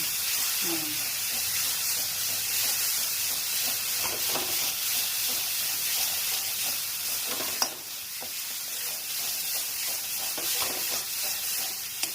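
Green banana peel paste fries in oil with a dense, continuous hiss and sizzle, broken by stirring scrapes and a sharp clink around the middle, close and steady with no speech.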